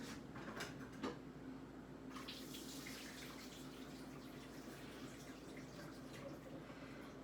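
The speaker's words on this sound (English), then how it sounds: "dumping this water off." Water from boiled potatoes pours off into a colander in a faint, continuous splashing rush, with a few light clanks near the start.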